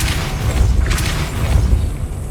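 Depulso force-push spell cast in Hogwarts Legacy, heard as a loud, booming magical blast with a deep rumbling thump and a brief bright whoosh, standing alone without speech.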